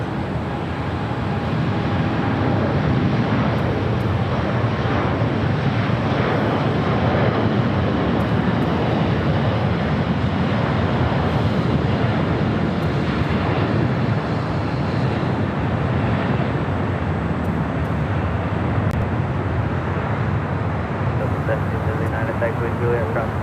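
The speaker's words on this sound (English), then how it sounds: "Delta Airlines flight 1779. Dreamliner now rolling down to 5 right." A Delta Boeing 787 Dreamliner rolls down the runway at LAX, a steady, dense engine rumble with wind-like noise throughout, while a voice talks over it.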